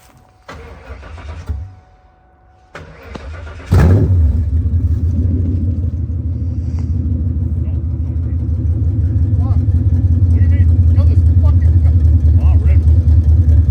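A 2V engine with open headers and no exhaust cranks, catches and settles into a loud, raw, rumbling idle with choppy pulses while people talk nearby.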